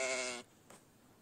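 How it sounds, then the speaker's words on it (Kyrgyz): A Hissar sheep offered for sale at a village in Kyrgyzstan gives one clear, fairly close bleat, followed by quiet. "Ушул эки кой сатылат туугандар."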